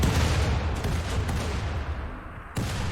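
Turrets open fire in RimWorld, a dense, continuous barrage of overlapping gunshots that holds loud and steady for about two and a half seconds, dips briefly, then surges back just as strongly.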